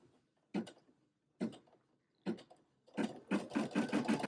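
A Brother PE550d embroidery machine stitches in short mechanical bursts at first, then runs into a steady, dense chatter of needle strokes, close and alone with no voices.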